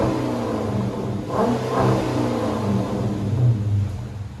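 A 2010 Dodge Challenger R/T 5.7L HEMI V8 with muffler-delete Flowmaster Flow FX dual exhaust idles with a low rumble, then briefly revs up twice before settling back, steady and close.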